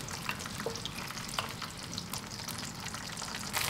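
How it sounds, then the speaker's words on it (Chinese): Scallion pieces, shredded onion, ginger slices, star anise and Sichuan peppercorns bubble gently in oil over low heat, a soft steady sizzle with light crackles and faint stirring. "放入大葱段、洋葱丝、姜片、几颗八角、20-30粒花椒，小火慢慢熬"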